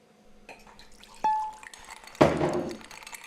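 Glasses clink together in a toast on a home cooking show about bourbon barbecue ribs: one bright, ringing clink, then a louder, splashier clatter of glass, close by with no talking.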